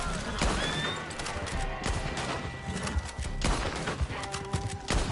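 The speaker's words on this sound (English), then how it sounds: "I don't mind wasting ammo on some blind shots" Blind gunshots in Red Dead Online ring out amid a busy mix of galloping horse hooves and whinnies, loud and dense throughout with no clear pauses.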